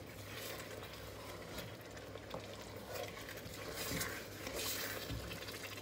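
Steady scraping and sizzling of chicken filling with onion and egg being stirred in a hot pan, close and continuous with light spoon knocks.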